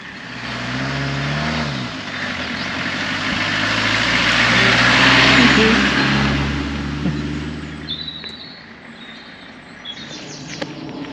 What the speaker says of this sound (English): move out of the way for some vehicles